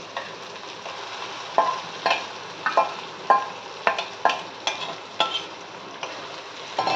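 Mashed roasted eggplant, peeled and mashed for a Khandeshi bharit, is stirred in hot oil, giving a steady close sizzle broken by a dozen rhythmic scraping stirs with no voices.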